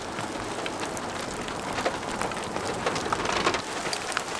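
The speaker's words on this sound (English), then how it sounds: "even though the rain's pounding on it" Rain pounds down steadily during an outdoor threshold interval run, a loud, dense hiss of drops hitting surfaces with scattered sharper splatters and no voices.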